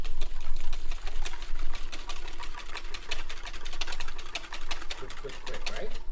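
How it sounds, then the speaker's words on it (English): Egg and milk custard for crème pâtissière is whisked briskly in a bowl, giving a dense run of rapid, rhythmic metallic clicks and swishes that keeps going steadily from start to finish at close range. "as we whisk"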